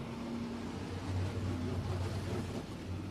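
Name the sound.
IMCA Modified race cars racing on the track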